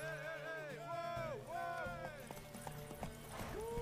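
Horse hooves clatter in a quick galloping rhythm in the video game The Witcher, beneath lively talk and shouting, with a horse whinny mixed in.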